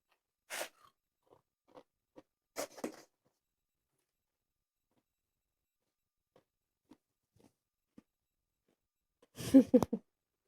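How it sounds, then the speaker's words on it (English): Ice from a Sonic cherry coke crunched between teeth in short, sharp bursts, a few close crunches with quiet pauses and faint small clicks between them. "I have a cherry coke from Sonic, and I'm crunching the ice"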